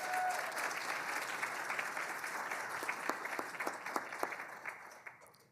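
An audience at a university data challenge awards ceremony gives a sustained round of applause for mentors, judges and volunteers, a steady wash of many hands clapping at a distance that thins and tapers off toward the end.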